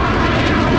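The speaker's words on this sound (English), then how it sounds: "We have the F-35 jet." An F-35 fighter jet flying past at the Dubai Airshow, a loud, steady, broadband engine roar that fills the short stretch without a break.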